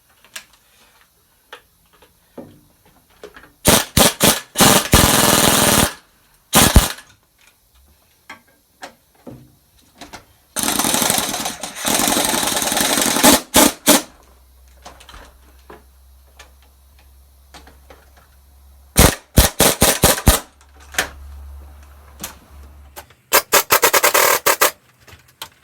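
Impact wrench hammering a strut nut tight on a 2011 Hyundai Sonata: several loud, close rattling bursts of a few seconds each, separated by quiet gaps.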